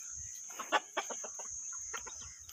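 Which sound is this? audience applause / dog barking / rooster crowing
rooster crowing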